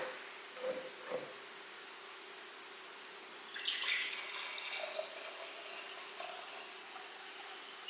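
Apple cider vinegar poured into a pickle brine for dilly beans: a brief, faint liquid splash and trickle in a quiet kitchen, with a couple of soft clinks just before.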